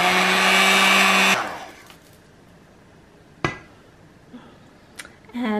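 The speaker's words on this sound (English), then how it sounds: "immersion blender" An immersion blender whirs loudly for about a second while mixing a pumpkin spice latte, then cuts off, leaving quiet room tone and a few small knocks and clicks.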